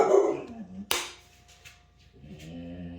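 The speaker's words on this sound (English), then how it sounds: "Stella, no bark." A dog gives one sharp bark in a home kitchen during sourdough baking, with a person talking before and after it.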